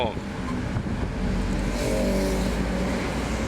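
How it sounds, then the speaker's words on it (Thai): An 11-seat passenger vehicle's engine runs steadily with a low, continuous rumble, fairly close, and a faint rise in pitch partway through. "เสียงรถอาจจะดังนิดนึง"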